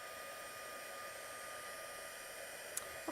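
A heat tool blows steadily to dry liquid watercolour paint during a craft session, a constant loud whooshing hiss held throughout with a couple of small clicks near the end, no talking.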